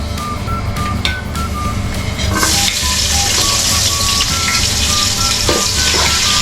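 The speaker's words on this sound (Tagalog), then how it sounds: "mainit na yung mantika. Isusunod na natin ang bawang at sibuyas" Garlic and onion hit hot cooking oil in a pan, giving a loud, continuous sizzle and crackle that swells as they go in, with a repeating electronic beep faintly in the background.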